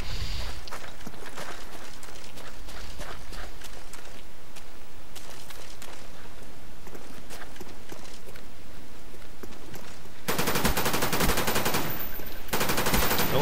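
Enfield rifle gunfire in Call of Duty Black Ops, rapid repeated shots over several seconds amid game noise, growing to a dense loud burst near the end.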